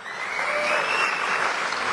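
Audience applause fills a university lecture hall during a debate event, a steady, dense clapping wash that holds at even loudness for two seconds with no talking.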